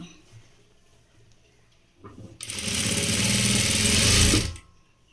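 A sewing machine stitching a blouse starts after a few soft handling noises, then runs in a loud, rapid, steady mechanical whir for about two seconds before stopping abruptly, heard close up with no voices.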